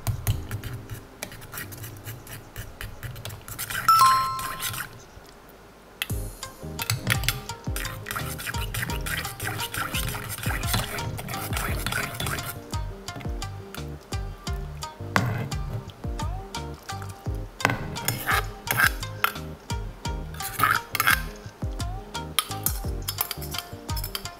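Miso being stirred into salmon miso soup in a pot: close, continuous scraping and clinking of a utensil against the pot, in rhythmic bursts with brief pauses, and no talk.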